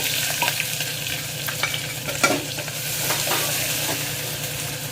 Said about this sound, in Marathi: मी मोहरी टाकली, मोहरी तडतडली का थोडंसं जिरं टाकायचं फोडणीला